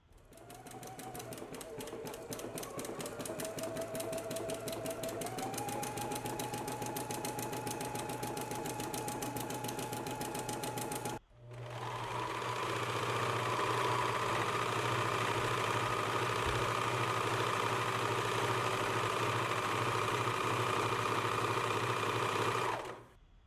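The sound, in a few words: sewing machine zigzag stitching dress seam from the hem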